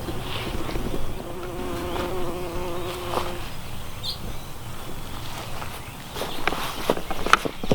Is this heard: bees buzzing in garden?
yes